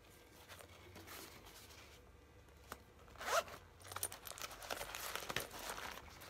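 A zipper is pulled on a pocket of a Green Bay Packers crossbody bag in a few quick, faint rasping strokes, close and quiet with small rustles around them.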